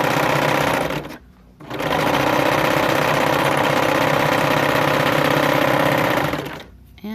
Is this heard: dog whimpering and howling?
no